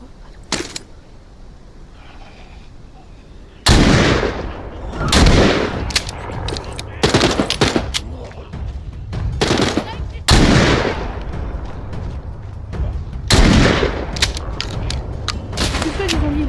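Gunfire in a first-person shooter video game: loud, close bursts of rapid automatic fire and single shots, separated by quieter stretches with faint background game noise.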